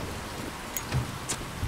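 Rain falls steadily in the video game Resident Evil 7 as a dense, hissing wash of drops, with a few faint sharper ticks over the constant patter.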